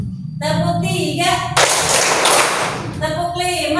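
Classroom of schoolchildren doing a rhythmic clapping game, a dense burst of group claps sounding loud and close for about a second and a half, with a teacher's voice talking before and after.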